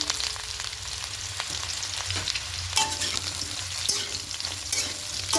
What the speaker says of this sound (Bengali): সোয়াবিনটা দিয়ে আলুর সঙ্গে খুব ভালো করে আবারও কিছুক্ষণ ভেজে নেব।